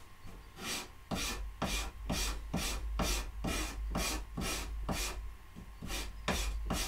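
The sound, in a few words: scraping wood grain around a knot on pallet stock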